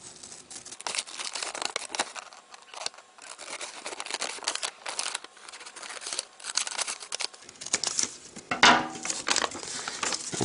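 Scissors snip along the edge of a paper sheet for origami, a run of close crisp cuts and crinkles with faint handling rustle, ending in a sharper rip near the end.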